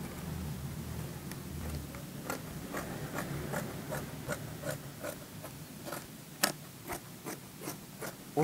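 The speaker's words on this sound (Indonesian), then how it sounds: "lalu kita gunting ya" Scissors snip through shirt fabric during a full shirt alteration, a series of short, sharp cuts at a steady rhythm, fairly close and clear over a quiet background.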